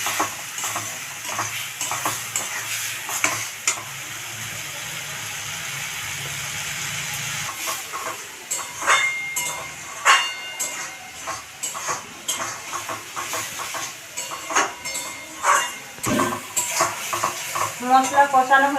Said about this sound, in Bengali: এই মশলাটাকে কষে নেব।